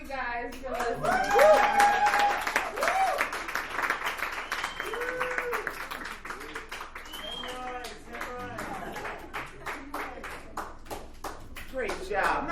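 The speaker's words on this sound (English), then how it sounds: "Another round of applause for all day." Bar crowd applauding a comedian at a dive bar comedy night, steady clapping mixed with voices, whoops and chatter throughout, with someone speaking over the noise.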